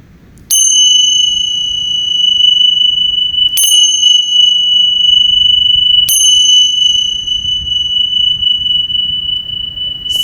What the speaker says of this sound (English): keeping the eyes closed until the final bell has sounded